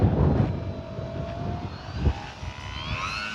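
Small E-flite Sportix electric RC airplane coming in to land in wind, a thin motor whine drifting in pitch, fairly distant over outdoor background noise.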